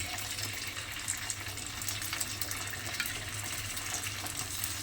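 Beaten egg for an omelette fries in hot oil in a pan, giving a soft, constant sizzle that stays at a low, even level throughout.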